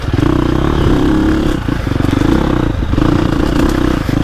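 A KTM 350XCF or Husqvarna TX300 dirt bike lugs in second gear along a woods trail, its engine a loud, close, continuous low chugging with brief dips in pace and some clatter, without speech.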